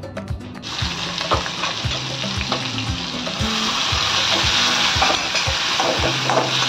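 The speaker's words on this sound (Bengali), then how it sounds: "পেঁয়াজটাকে একটু ভালো করে ভেজে নেবো।" A small, coarsely blended onion fries in hot oil in a pan, giving a loud, continuous sizzle with regular low knocks from stirring throughout.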